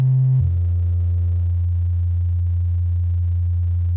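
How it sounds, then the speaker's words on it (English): Sine waveform from a Cre8audio Chipz synthesizer, a steady sustained low tone carrying bright high-frequency overtones, starting with a brief shift in pitch and then holding loud and unchanging throughout. "You can hear on the sine, there's a lot of high frequency even when I go low."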